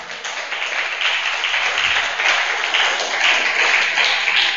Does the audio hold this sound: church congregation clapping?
yes